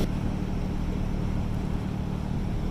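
Old diesel motors and propellers of a tour boat on the river in Budapest at night drone in a steady, low, continuous rumble, close and unbroken throughout.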